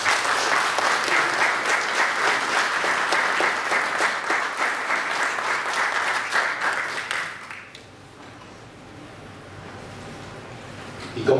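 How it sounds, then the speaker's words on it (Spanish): Warm, loud audience applause at a formal presentation in Peru, many hands clapping in a dense, rhythmic burst for about seven seconds before it drops off abruptly, leaving quieter room noise. "darle un caluroso aplauso"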